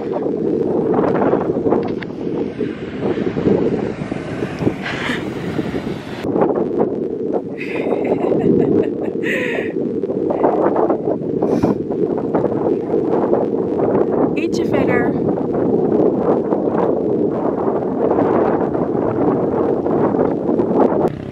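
Steady, loud wind roars and buffets across the microphone in the Atlantic Dunes near Cape Town, a continuous blustery rush with scattered brief rustles and knocks, and no talk heard.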